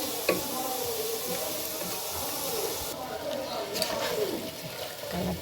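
Onions fry in hot oil with a dense, continuous sizzle and hiss, close and fairly loud, with light stirring scrapes and brief knocks throughout.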